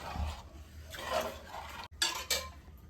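Food is stirred in a pot, with a spoon scraping and clinking against the metal in short, uneven strokes, close up and fairly clear, with no talk over it.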